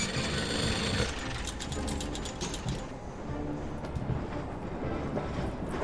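A train in the video game Syberia, heard as a steady mechanical clatter with rhythmic ratcheting and rumbling wheel noise that dips briefly midway and then carries on.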